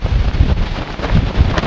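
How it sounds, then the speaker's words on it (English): Strong wind at Hood River buffets the microphone in a continuous low rumbling roar with gusty surges, loud and close, with no voices. "Pretty windy here in Hood River."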